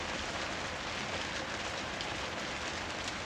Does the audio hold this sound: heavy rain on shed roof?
yes